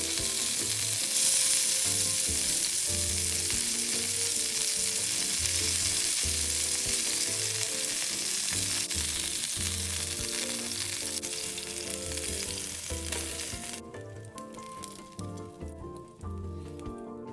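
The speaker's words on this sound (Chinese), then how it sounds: "转中火把肉饼两面煎至金黄酥脆" Crispy meat pie, a layered flaky pastry filled with pork, onion and black pepper, frying on medium heat in a pan until golden on both sides, with steady loud sizzling and crackling throughout that eases toward the end.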